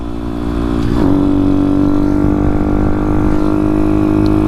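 A Honda Grom motorcycle engine droning loud and steady while riding, with a short rising rev near the start before settling into an even hum; no voices.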